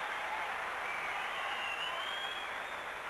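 Tennis crowd at the 2002 Australian Open applauding during a third-round match, a steady wash of clapping heard at a distance, fairly faint and sustained throughout without clear voices.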